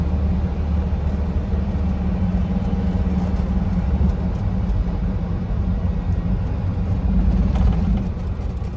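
A 1977 Mercedes-Benz 240D W123 diesel cruising at 60 mph on an open road near an airport: a continuous low engine drone and road rumble with steady broadband wind and tire noise, heard from inside the cabin without any speech.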